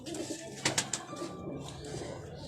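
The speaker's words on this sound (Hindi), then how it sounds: "ये कुछ कबूतर हैं जी" Soft, low pigeon cooing close by, with a few brighter bird calls partway through against steady background noise.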